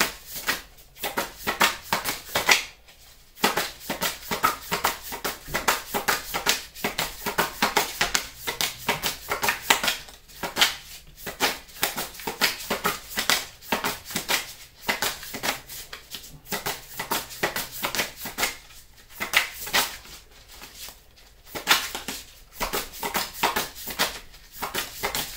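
Tarot cards being shuffled by hand, a close, continuous riffling and flapping in rapid bursts with brief pauses, no talking.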